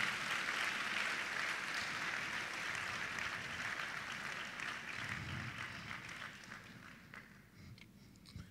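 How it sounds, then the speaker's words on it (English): A large crowd at a university graduation ceremony claps in a dense, continuous wash of applause that slowly thins and fades toward the end, with no speech over it. "Can we clap for that?"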